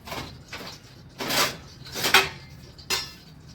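A large plate and other dishes are handled in a home kitchen, giving several short clinking, scraping clatters spread over a few seconds, fairly close and moderately loud, with no talking.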